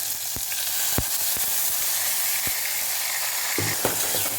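Mashed tomato sautés in a pan for okra kuzhambu with an even, steady sizzle. A spoon taps and scrapes the pan now and then, and no one speaks.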